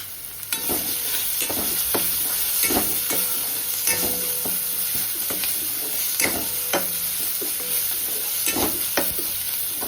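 Garlic-ginger paste with a little turmeric frying in a pan for a home-style pumpkin kadhi gives a steady, close sizzle broken by regular spatula clicks and scrapes, with no talking.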